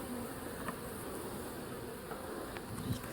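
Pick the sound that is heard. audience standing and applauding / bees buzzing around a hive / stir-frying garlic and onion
bees buzzing around a hive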